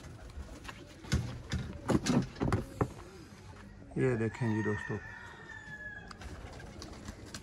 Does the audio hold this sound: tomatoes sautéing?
no